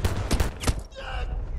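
Gunfire in Battlefield 2042 on a realistic milsim Portal mode: several loud, sharp shots cracking in quick succession, then a fading echo and softer ambient noise.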